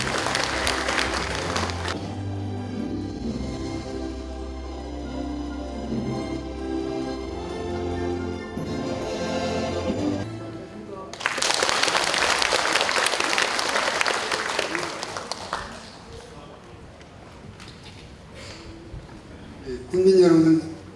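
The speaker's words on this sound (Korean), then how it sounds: "여러분 따뜻한 박수로 맞이해 주시기 바랍니다." Audience at a civil-military forum applauds to welcome a presenter, a burst of clapping in the middle of the stretch, with music and spoken voices before and after it.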